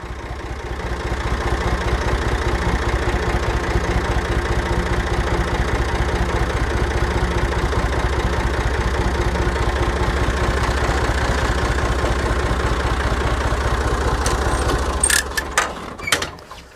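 A Master Vezon 240 tractor engine runs loud and steady at a low rumble with a mechanical knock while turning, then winds down near the end as a few clanks sound.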